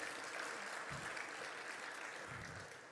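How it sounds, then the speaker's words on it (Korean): A Sunday afternoon church service congregation claps in praise, a short, faint burst of dense applause that fades slightly at the end. "하나님께 영광의 박수를 올려드리겠습니다"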